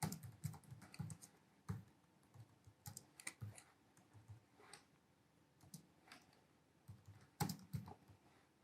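Typing on a computer keyboard while entering program code, a quiet run of irregular key clicks and taps with short pauses, alone with no voices.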